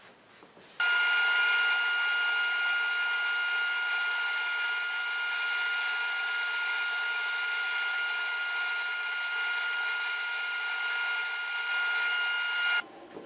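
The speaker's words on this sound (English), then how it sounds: "That's an 1/8 inch thick board. That worked out quite nicely." A table saw with a sled cuts an eighth-inch-thick board, the blade whining loud and steady for about twelve seconds between a sudden start and stop.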